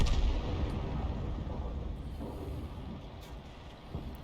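A 105 leFH18B2 howitzer fires a shell in a video game, giving a deep, heavy rumbling boom that fills the low end and slowly fades over several seconds, with no voices.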